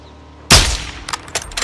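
A loud, close sniper rifle shot in the Modern Warfare 2 video game, a single sharp blast with a booming echo that rolls away, followed by faint clicks and rattles of the rifle's bolt.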